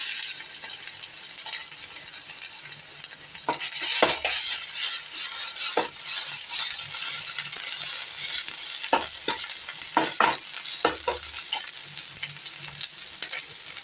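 Ginger garlic paste sizzles steadily in a hot pan while being stirred, with scattered scraping clacks of the spoon against the metal throughout; close and fairly loud, no talking.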